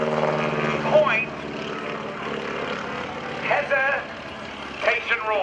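A propeller aerobatic airplane flies a four-point hesitation roll at the 2012 NAS Oceana airshow. Its engine drones steadily at a distance, and an announcer talks over it throughout.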